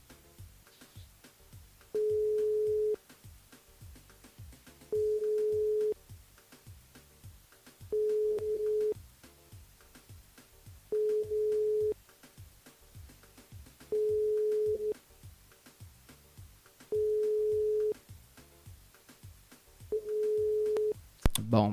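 A telephone line rings unanswered during a live radio call-in, with seven evenly spaced ring tones over background talk in a steady repeating pattern.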